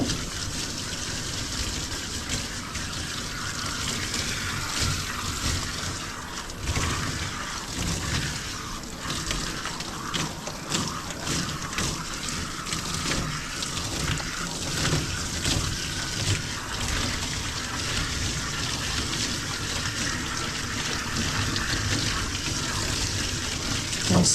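Water runs steadily from a tap or sprayer while a dog is being bathed and rewetted, a soft continuous splashing and trickling that stays at an even level throughout with no speech over it.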